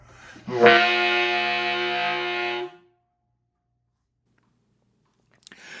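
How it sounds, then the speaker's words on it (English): A saxophone or similar woodwind sounds one sustained jazz growl-tone note, buzzing and growling from humming into it, lasting about two seconds before stopping abruptly. "If you hum while you play a note, it produces a growling sound."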